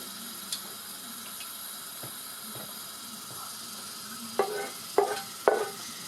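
Fenugreek seeds frying in a pan for fish curry, a faint steady sizzle and hiss throughout with a few louder crackling bursts near the end, with no talk.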